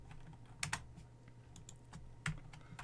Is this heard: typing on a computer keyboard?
yes